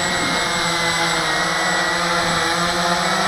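A Walkera QR-X350 GPS quadcopter drone holds its position in a hover, giving off a steady, loud, close whine of spinning rotors with a constant tonal hum throughout and no talk.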